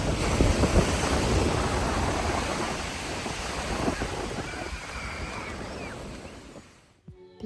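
Waves washing onto the long sandy beach at Spille, Albania, a broad continuous surf roar mixed with wind buffeting the microphone, strongest early and slowly easing before fading out at the end; no speech.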